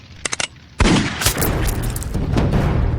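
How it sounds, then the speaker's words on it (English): A rapid burst of loud gunfire erupts from a Deadpool 2 movie scene, a few sharp cracks followed by a dense, sustained barrage of shots that fills the rest of the moment. "That's why I can go into shooting people that hurt him like this."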